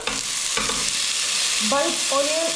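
Onion dropped into a hot pan for samosa filling, frying with a steady close hiss while a spoon stirs and scrapes, a few short squeaky scrapes standing out near the end.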